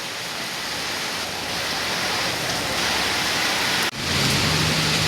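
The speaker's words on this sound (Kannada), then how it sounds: "ಮಳೆ ಅಂತೂ ಜಾಸ್ತಿ ಬರ್ತೈತೆ" Heavy rain pours down in Madhugiri in a dense, loud, unbroken roar, with a brief dip before the downpour resumes.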